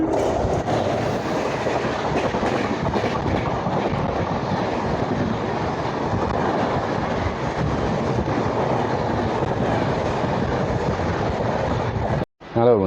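Running non-stop on the Coochbehar–Kolkata line toward New Jalpaiguri, a passenger train produces a long, steady roar of wheels and carriage rattle with faint clickety-clack, broken by a brief gap near the close.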